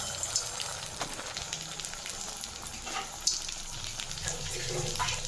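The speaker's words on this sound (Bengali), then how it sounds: "গরম তেলের মধ্যে ছেড়ে দিলাম।" An egg-dipped chop frying in hot oil, a steady close crackling sizzle with occasional sharper pops, moderately loud and continuous with no talk.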